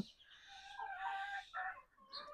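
Young chicks eating rice give faint, soft chirping and clucking calls in a few short bursts, quiet and fairly close.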